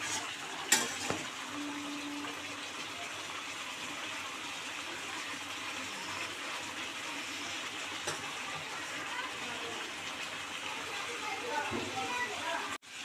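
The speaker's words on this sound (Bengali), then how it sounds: "ভেজে রাখা আলু দিয়ে মাংসটা আমরা আরও কিছুক্ষণ হাই ফ্লেমে কষিয়ে নেব" Chicken and fried potatoes sizzling in a pan with spice paste over a high flame, a faint continuous hiss of frying with occasional stirring clinks, under quiet talk.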